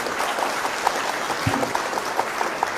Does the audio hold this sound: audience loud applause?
yes